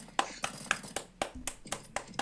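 Hands clapping in applause during a CS:GO game session, around eight sharp claps in an uneven rhythm, close and fairly quiet, with no talking.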